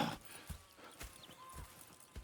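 Horse hooves clip-clop at a slow walk in the video game Red Dead Redemption 2, faint, uneven thuds spaced about half a second apart over quiet ambience.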